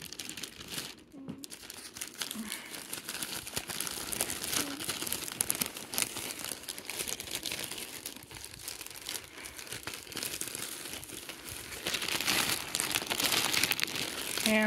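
Plastic packaging around a New Orleans Saints shirt is torn and pulled open by hand, steady crinkling and rustling with brief rips, close and moderately loud, growing busier toward the end.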